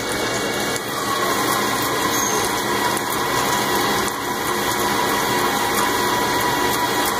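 A machine turning a 2.5 inch diameter steel bar into a bandsaw mill drive shaft gives a loud, steady broadband whir and grind, continuous for the whole stretch with a constant high whine on top.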